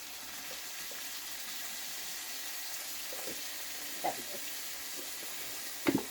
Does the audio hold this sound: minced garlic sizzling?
yes